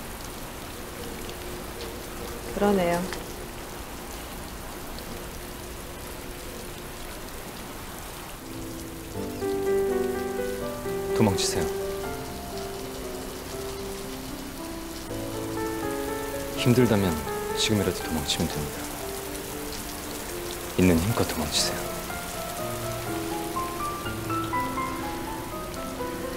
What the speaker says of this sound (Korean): 소나기가 오네요.